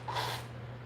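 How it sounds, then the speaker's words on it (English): A person blows their nose once, a short, close, breathy honk over a low steady hum, with no talk. "Let me blow my nose."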